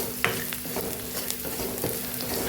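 Onion and carrot sautéing in a pan for a diet breakfast dish, a steady close sizzle with a few soft scraping stirs of a spoon, no voices.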